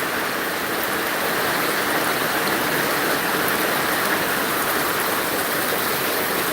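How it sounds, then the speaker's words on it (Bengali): Heavy rain pouring down, a dense, unbroken roar of falling water that stays loud and close throughout, with no voices. "বৃষ্টি"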